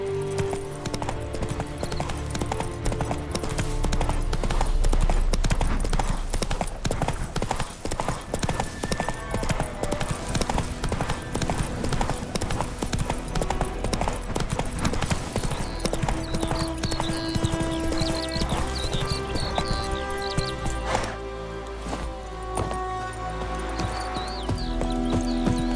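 Hooves clip-clop steadily as a horse is ridden in The Witcher 3, a continuous loud rhythm under music with brief voices.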